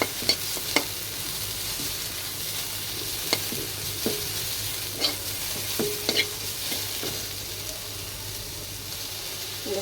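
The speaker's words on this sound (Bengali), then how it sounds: "হালকা করে তেলে নেব পেঁয়াজটা।" Onions fry lightly in oil for a jackfruit seed bhorta, giving a continuous soft hiss of sizzling with occasional sharp clicks of a spatula stirring the pan.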